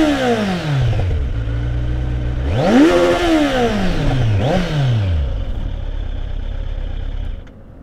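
A Kawasaki Z900 motorcycle in neutral revs through its exhaust, loud and close: two sharp throttle blips that rise and fall in pitch over a rumbling idle, which then settles steadily.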